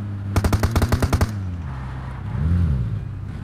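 A rapid machine-gun burst of about a dozen evenly spaced shots in the video game PUBG Mobile, loud and close, followed by a low engine-like hum.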